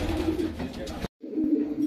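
A racing pigeon coos close up, a low throaty burst broken by a short gap and then resuming, with faint background noise.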